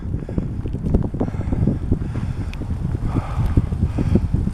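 Steady wind buffets the microphone outdoors during a winter rain, a continuous low rumbling roar with gusty fluctuations and no voices.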